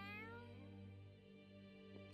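A cat meows once in the video game Tales of Arise, a clear drawn-out tonal meow heard alone and close.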